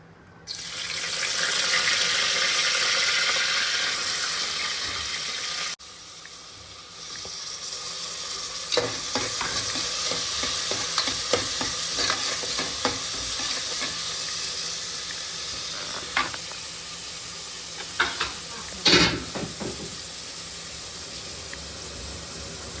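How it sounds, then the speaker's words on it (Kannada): Curry leaves and onion dropped into hot oil, a loud burst of sizzling that settles into steady frying with clinks and scrapes of a spoon stirring, and a brief louder crackle near the end. "ಇವಾಗ ಇದು ಕಾದಿದೆ ಅಂದಾಗ ಇದಕ್ಕೆ ಕರ್ಬೇವಿನ ಸೊಪ್ಪು ಮತ್ತು ಈರುಳ್ಳಿ ಹಾಕೊಳ್ಳೋಣ"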